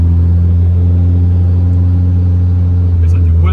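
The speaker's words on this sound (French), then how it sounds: "j'ai une fuite d'échappement, ouais" A Nissan Micra with a swapped-in SR20 2-litre turbo engine and an exhaust leak runs at a steady, loud, deep idle rumble with strong low harmonics throughout, a slight change near the end.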